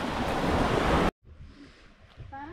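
Strong wind at a lakeside park at Chimney Bluffs State Park roars loudly against the microphone for about a second, then drops suddenly to a quieter open-air background.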